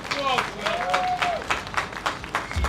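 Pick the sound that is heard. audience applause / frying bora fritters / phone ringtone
audience applause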